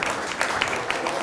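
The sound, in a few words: audience applause at a coin show banquet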